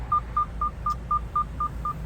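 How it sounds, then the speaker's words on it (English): Nine short, identical electronic beeps repeat at an even, quick pace, each a clear mid-pitched tone over a low background hum inside a truck. "That beeping is really annoying."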